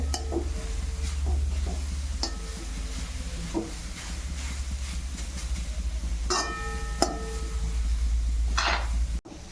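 Grated carrots stirred in ghee for gajar ka halwa: a soft, continuous frying hiss under a low hum, broken by scattered clinks and scrapes of a spoon against the pan, with no talking.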